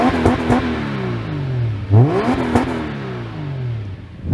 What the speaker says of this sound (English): the twin exit exhausts, which sound very nice